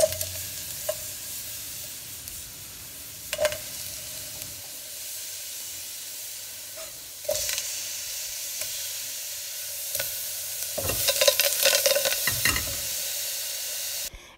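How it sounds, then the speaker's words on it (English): Grape seeds sizzle in a hot pot with a continuous hiss, broken by intermittent utensil clinks and stirring scrapes that grow busier toward the end, close and without talk. "I actually placed the grapes inside the hot pot so that my oil doesn't have any kind of liquid in it."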